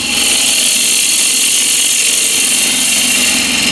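A bowl gouge scoops into wood spinning on a lathe, producing a loud, continuous close-up hiss and whir of cutting with no pauses.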